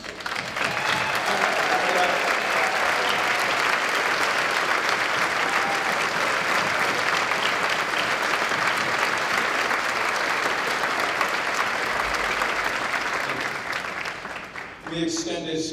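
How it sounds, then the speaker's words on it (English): Sustained applause from an audience honoring a board of directors at a charity gala, dense steady clapping filling the room for about fifteen seconds before tapering off at the very end. "would you all give them a round of applause?"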